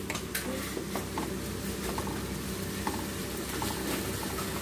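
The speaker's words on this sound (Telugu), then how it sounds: "కొద్దిసేపు బాగా వేయించుకోవాలి." Steady sizzling of spices and ingredients frying in a pan, with turmeric added, as part of an egg omelette dish, with occasional stirring clinks and pops over a continuous hiss.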